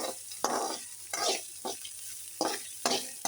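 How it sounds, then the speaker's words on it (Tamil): Capsicum sautéing in a pan is stirred with a utensil in steady scraping strokes, each pass stirring up a soft sizzle, close and moderately quiet. "கேப்சிகம் போட்டு நல்லா வதக்கிட்டு வந்து"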